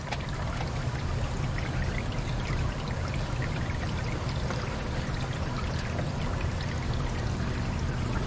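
A steady, continuous pour of water splashes into a container, even and unbroken throughout with a bright, fizzy trickling texture.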